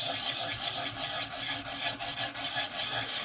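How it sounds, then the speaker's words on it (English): A sharpening stone grinds against a Nitro V steel knife blade in a close, continuous raspy scraping with quick back-and-forth strokes, no voices over it. "stone is cutting through that steel extremely well"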